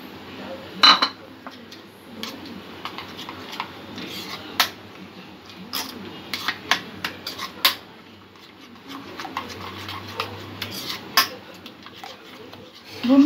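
A spoon scrapes and clinks against a bowl while mixing mango kulfi ingredients with chopped nuts, irregular close taps and stirring sounds over a quiet background.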